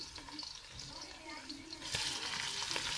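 Crushed ginger and garlic are added to browned onions for a chicken tomato karahi, frying with a soft sizzle and stirring scrapes that rise into a fuller, hissing fry midway, while a voice talks faintly underneath.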